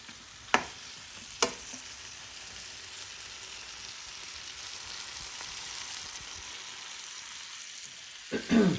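Tomatoes and spices frying in a pan for a vegetarian potato and pea curry, a steady soft sizzle with a couple of sharp clinks of a stirring spoon and a louder scrape at the end.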